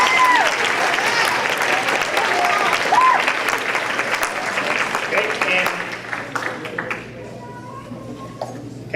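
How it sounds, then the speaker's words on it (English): Sustained audience applause for the Color Guard at the Evans High School band awards, filling a large room for about six seconds and then thinning to scattered claps, with some voices and cheers mixed in. "give the Color Guard, just in general, a round of applause"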